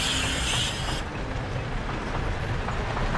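Simulated roller coaster train running along the track of a Gemini coaster model, a steady rumbling clatter of wheels that drops in brightness after the first second and continues unbroken with no talking.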